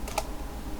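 Keystrokes on a computer keyboard typing a Linux Mint terminal command, a couple of distinct key clicks early then quiet, close and fairly soft.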